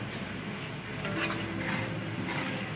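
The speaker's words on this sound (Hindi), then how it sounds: "एक मिनट हम मसाले की भुनाई करते हैं।" Spices and curry leaves roast in a pan for dahi aloo, giving a steady, close, hissing sizzle that lasts throughout with no speech.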